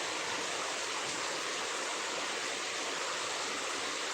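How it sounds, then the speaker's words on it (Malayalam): Heavy rain pouring down outdoors as a loud, even, unbroken hiss that fills the whole stretch, with no voices heard. "മഴേൻ്റെ ഒച്ച കൊണ്ട് ഞാൻ പറയുന്നത് നിങ്ങൾക്ക് കേൾക്കാണ്ടിണ്ടാ?"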